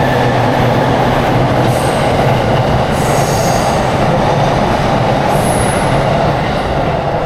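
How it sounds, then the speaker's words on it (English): A train rumbles past in Tokyo, loud and close, with steady wheel roar and occasional high squeals from the rails throughout, filling the whole stretch without talk. "wait for the train to pass so you can hear me"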